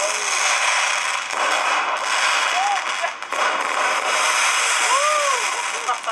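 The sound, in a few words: New Year firework display recorded on Blackberry Q10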